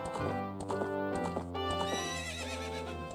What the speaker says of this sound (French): il venait récupérer un cheval appelé Epona